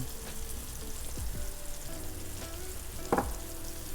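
Yellowtail snapper coated in blackening seasoning fries in a pan, a steady close sizzle with a few brief utensil knocks and scrapes; no talking.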